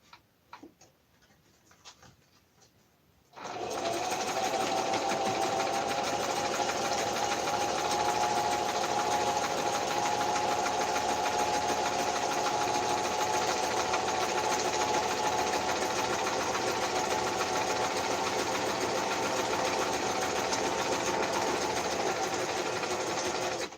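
A sewing machine starts after a few quiet seconds and runs steadily, sewing up the bottom of a fabric craft with a continuous close mechanical whir and fast ticking stitch rhythm.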